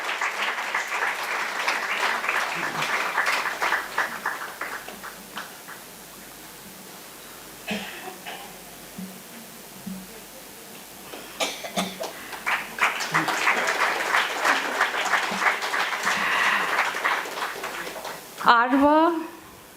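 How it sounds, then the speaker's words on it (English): Audience at a suicide prevention conference inauguration claps in a steady round of applause, swelling and fading across the clip, with scattered voices and light chatter mixed in. "A big round of applause for Aditi"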